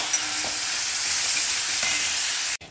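Masala for bhindi masala is stirred and sautéed in a pan, giving a steady loud sizzle with faint scraping stirs and no talk, ending in a sharp knock.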